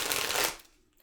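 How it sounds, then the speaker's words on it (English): Tarot cards riffled in a quick shuffle, a dense papery flutter lasting about half a second before trailing off into near silence. "We'll do 3 shuffles."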